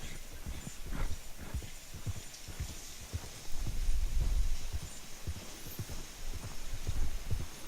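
Horse hooves clip-clop steadily on the ground while riding in Red Dead Redemption 2, a fairly loud, rhythmic run of hoofbeats with no talking.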